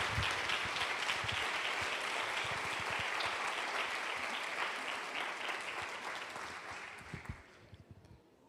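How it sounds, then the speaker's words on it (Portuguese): A church congregation applauds during a sermon, with dense, sustained clapping from many hands that holds steady, then thins out and fades away over the last second or so; no voices over it. "Você pode aplaudir o nome do Senhor?"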